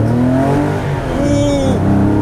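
A modified Porsche 964 with a 3.8 engine pulls hard in first gear, a loud close engine note with rising harmonics as revs climb, heard from inside the car.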